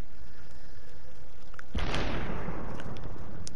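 A single heavy gunshot in the slow-motion shooter game Superhot, a loud blast that bursts out of near silence and decays over about a second into a hissing tail.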